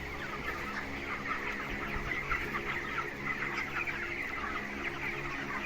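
A dense flock of broiler chickens, about 25 days old, clucks steadily inside a ventilated poultry farm shed. The murmur is continuous and fairly close, with a constant fan hum underneath and no talking.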